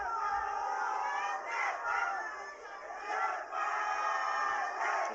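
A stadium crowd at a Nepal vs India women's match roars continuously, swelling and dipping in loud waves of shouting and cheering throughout.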